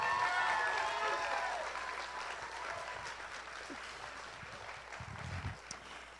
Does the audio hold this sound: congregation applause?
yes